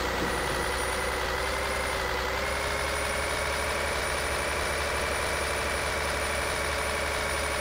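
Kenworth T660 truck in Euro Truck Simulator 2 slowing down, a steady low diesel rumble with a constant high whine and faint hiss layered over it, even and continuous with no talking.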